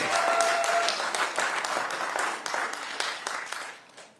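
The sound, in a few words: audience clapping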